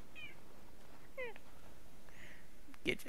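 House cat Gidget in the survival game Permafrost gives a few short, fairly quiet meows spread across the moment, with no talking over them.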